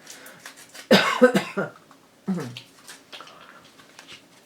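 A few sharp, close coughs and a throat clear break out in quick succession, separated by short quiet gaps.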